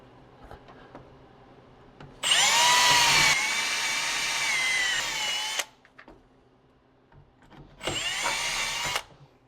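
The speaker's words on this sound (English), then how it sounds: "it does help when you have a sharp drill bit, which I don't have" A power drill bores holes through a rooftop tent in two loud bursts, a long whining run of about three seconds followed by a shorter one, with quiet handling noises between them.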